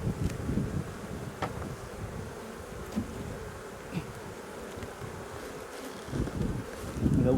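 Honeybees hum steadily around an open colony while a beekeeper fits a super onto the hive, a dense low buzz under gusts of wind against the microphone, with a few insects passing close.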